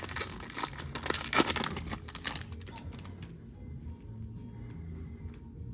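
Foil packs of Topps Chrome baseball cards torn open, a dense burst of crinkling and tearing for about three seconds that then settles into quieter rustling and handling of cards.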